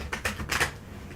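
Quick riffling snaps of a tarot deck being shuffled, three or four crisp bursts in quick succession, close and moderately loud with no voices.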